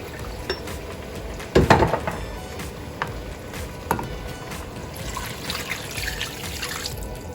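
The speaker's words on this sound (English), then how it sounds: "Now I'm going to add my coconut milk. And about maybe 2 cups of water." Coconut milk and water pour into a pot of mutton curry, a soft trickling and splashing with a louder splash early on and faint clinks against the pot.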